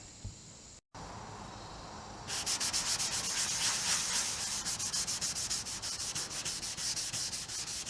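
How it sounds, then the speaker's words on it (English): Scuff-sanding body filler on an XT Falcon car shell, a quiet start giving way to rapid, even back-and-forth rubbing strokes, close and steady. "Just give it a bit of a scuff"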